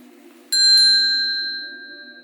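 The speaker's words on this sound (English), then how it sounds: "There's actually this bell, Cygnus it is saying," An old bell decorated with two swans gives a single bright ring with a quick second strike, its clear metallic tone hanging and slowly fading over a faint background hum.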